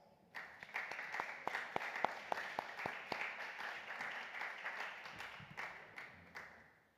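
Conference audience claps to welcome a speaker on stage, opening with a few distinct, sharp claps before thickening into moderate, steady applause that fades toward the end.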